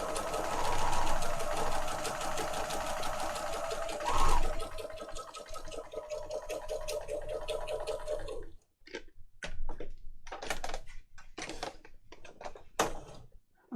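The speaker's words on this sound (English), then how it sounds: "I've cleaned my sewing machine and now it's really skiddy." A freshly cleaned sewing machine hums and stitches in a steady rapid rattle near a fabric edge, then stops and starts in short bursts with pauses between.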